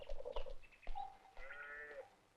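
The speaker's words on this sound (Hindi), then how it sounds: "एक बकरा साहब की जीप में रखवा दो" A goat bleats faintly at a distance, a few wavering, nasal calls spread over a couple of seconds against quiet background noise.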